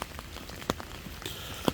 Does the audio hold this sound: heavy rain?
yes